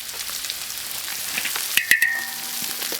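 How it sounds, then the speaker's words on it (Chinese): Scallion, pickled bamboo shoots and bean paste stir-fried in a hot wok, a light steady sizzle with a few sharp clatters of the spatula near the middle, close by and without talking. "加入这个大葱、酸笋，有点飞起来的感觉了。 把这个炒香， 再来点豆瓣酱"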